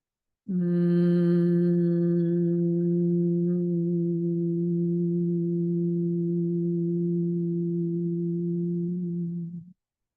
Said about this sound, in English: on the exhale, let's just hear the sound, like a humming sound